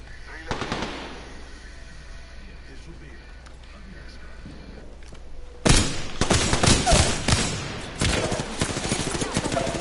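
Bursts of rapid automatic gunfire in the Apex Legends video game, with a faint shot early on, then dense, loud volleys after a quieter stretch of game ambience.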